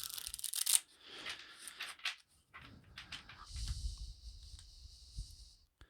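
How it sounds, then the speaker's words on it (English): A deck of playing cards is shuffled close by, with a quick riffle burst at the start, then scattered handling, sliding and bridging sounds, fairly quiet, with no voices. "Well, that's a terrible shuffle."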